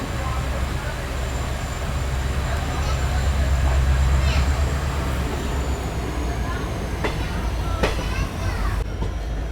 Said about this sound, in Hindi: अपने एकदम निर्धारित समय सुबह के 7:40 पे अपनी ट्रेन निकल रही है अभी लालगढ़ जंक्शन से।